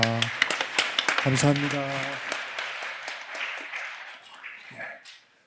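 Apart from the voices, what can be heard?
congregation applause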